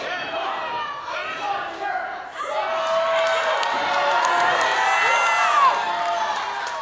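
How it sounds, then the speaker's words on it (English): Wrestling event crowd in Christchurch cheering and applauding, a loud, sustained roar of many voices with shouts rising and falling, clapping mixed into the din throughout. "these fans applauding"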